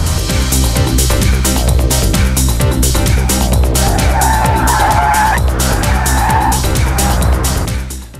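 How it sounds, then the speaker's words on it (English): A car makes a lane change at 65 mph in 4th gear off the throttle, with a loud engine drone throughout and tires squealing and skidding in two bursts midway, fading at the end. "We're coming up for the lane change, 65 miles an hour, 4th gear, off the throttle."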